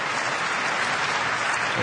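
A German crowd applauding at a table tennis match, dense continuous clapping filling the arena at a steady loudness throughout.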